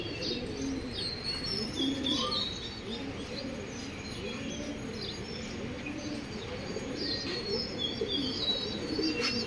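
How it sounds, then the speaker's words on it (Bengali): Pigeons coo softly in repeated low, rounded phrases against an outdoor background, with occasional faint chirps overhead and a brief flutter of wings. "এই দেখেন কবুতরগুলো কী করে"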